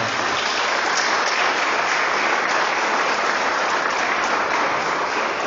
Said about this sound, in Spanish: Denle un fuerte aplauso al Señor entonces.